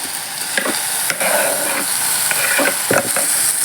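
Onion, garlic and finely chopped tomato sautéing in a pan for chicken curry, producing a loud, close, continuous sizzle broken by several sharp scrapes and knocks of a stirring spoon.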